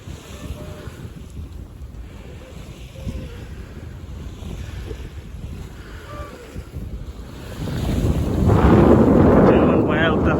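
A racing sailing yacht beats upwind at sea in the Rolex Fastnet Race, with constant wind rushing past the microphone and waves washing against the hull, swelling into a louder surge of water near the end.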